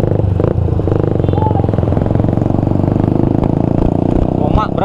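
A mountain bus engine in Indonesia roars with a rough, slapping exhaust, loud and continuous with rhythmic pulsing, while someone talks over it.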